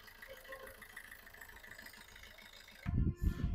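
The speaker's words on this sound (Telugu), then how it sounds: "ఇంజన్ బీటింగ్ అయితే హైలైట్ ఉంది బండికి." A 2013 Maruti Ertiga VDi diesel engine idles with a steady, even hum and faint harmonic drone, then heavy, loud rumbling thumps burst in near the close.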